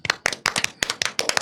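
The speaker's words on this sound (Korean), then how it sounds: "박수 한번 쳐야 되는 거 아니에요?" Several sharp hand claps in an uneven rhythm, about seven distinct slaps over a second and a half, close and fairly loud with no talking.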